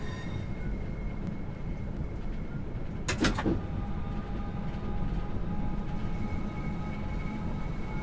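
Steady low rumble of a train running in Train Sim World 2, a continuous rolling drone with faint tonal hum and a brief burst of brighter noise partway through.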